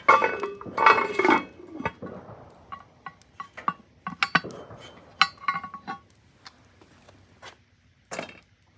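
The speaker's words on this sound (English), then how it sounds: "Let's put the lid on it." A lid going onto a pot of chicken noodle soup cooking over a wood fire: metallic clanks and clinks, loud at first, then scattered lighter taps and scrapes with short pauses between.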